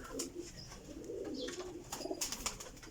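A female Sialkoti pigeon coos softly in low rolling phrases, faint and close, with scattered sharper chirps from other birds nearby.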